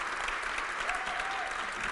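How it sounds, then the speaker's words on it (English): Steady, dense applause from a large audience gathered for a Walt Disney Company Q&A event about Toy Story 4, sustained and even throughout with no pauses or speech. "Please give him a big round of applause."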